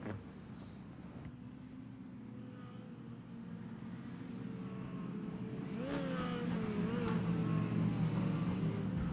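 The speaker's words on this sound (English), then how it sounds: "As these drivers come down turn number 2, go down the back straightaway" Stock cars from an outlaw stock tour racing around a speedway turn, a steady droning roar of engines that gradually swells louder as the pack comes closer, with brief higher revving whines near the end.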